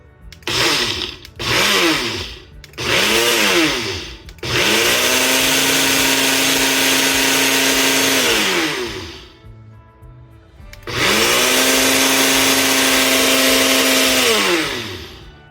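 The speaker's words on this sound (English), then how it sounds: "you can just take regular granulated sugar and blend it up in a blender" A blender grinding granulated sugar whirs loudly in several short pulses, then runs in two long, steady grinding bursts separated by a brief pause, its motor pitch rising and falling.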